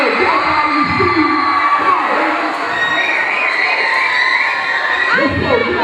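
A live audience at a dance show cheers, whoops and screams in a loud, continuous roar that fills the whole stretch, with shrill voices rising above the crowd.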